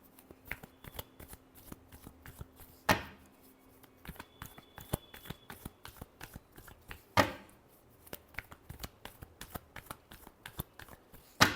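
Tarot cards are shuffled by hand close up, with quiet repeated riffles and taps broken by a couple of louder cascading riffles. No one speaks.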